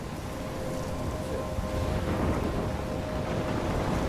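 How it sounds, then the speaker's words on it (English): Thunderstorm in the video game Life is Strange: a dense, steady roar of rain and wind with a low rumble underneath, constant and loud throughout with no voices. "I'm trapped in a storm?"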